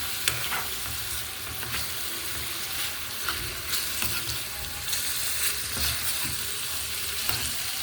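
Rice seasoned with black pepper and spiced onion being stirred in a pot, a steady close sizzle with soft scraping strokes and a few sharper clicks of the spoon, no voices.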